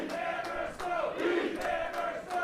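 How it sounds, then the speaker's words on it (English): A wrestling show crowd in Yarmouth, Maine, roaring and chanting in a dense, sustained wash of voices that rises and falls, loud and continuous throughout. "Split crowd here in Yarmouth, Maine."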